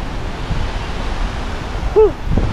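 Steady wash of surf and wind noise, with waves rolling in the background and a brief voice-like sound near the end.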